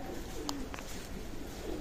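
A Hiralal pigeon at a pigeon loft gives a soft, low coo, faint and brief, over steady background noise.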